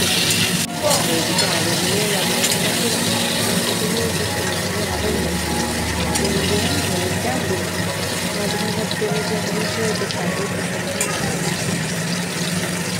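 Potatoes frying in oil in a pan for a fish and cauliflower curry, giving a steady close sizzle with scraping and stirring clatter throughout.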